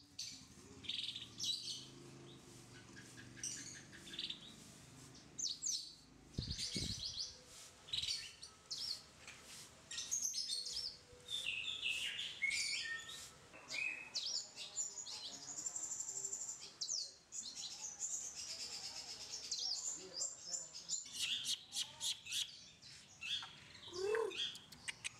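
Captive-bred songbirds at a songbird competition chirp, tweet and squawk almost continuously in a busy overlapping chorus, moderately close and fairly faint overall.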